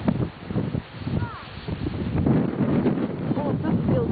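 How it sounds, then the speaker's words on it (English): Strong wind gusts buffet the microphone outdoors on a stony, exposed spot, a steady rough roar rising and falling in bursts while a voice speaks faintly underneath. "It's very windy here."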